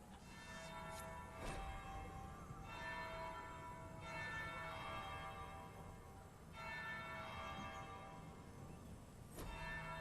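Bell rings in the video game Dragon Age: Inquisition, struck several times with long, sustained metallic tones that overlap and hum, quiet and spaced apart against a faint ambient background.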